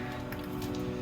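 A dry-aged Angus steak searing in a hot oiled pan, giving off a steady, close, crackling sizzle like heavy rain with no pauses.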